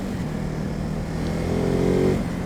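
A 2024 Ducati Hypermotard 950 RVE motorcycle is ridden on a road with a continuous engine roar and wind noise, close up. The pitch rises slightly as it accelerates toward the end.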